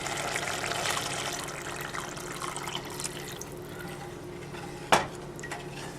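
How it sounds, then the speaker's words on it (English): Water is poured into a pot of simmering red lentil and onion sauce, giving a steady rushing splash that fills the moment, with one sharp metallic clink near the end. "We're going to add some more water to this."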